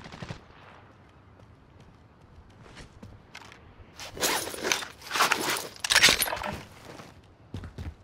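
Gunfire in Call of Duty: Modern Warfare: a few quiet footstep-like clicks, then a loud cluster of rapid automatic shots in several bursts, followed by a sparse shot or two near the end.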